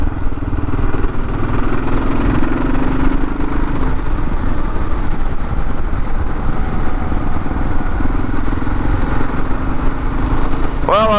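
A motorcycle engine roars close and loud for the whole stretch, a steady throaty drone whose pitch shifts slightly early on, with no clear breaks or pauses.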